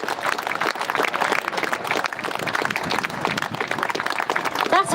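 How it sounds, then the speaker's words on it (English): A crowd at an outdoor protest in Braintree, Essex claps and cheers, the applause dense and continuous throughout, with voices mixed into the noise. "let's give them a massive round of applause"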